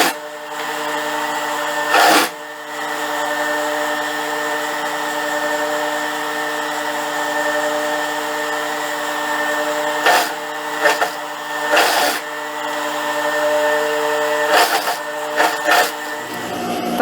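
A sewing machine stitches a dress seam with a one-centimetre allowance in a sustained, even mechanical whir, broken by a few short louder bursts and pauses near the end.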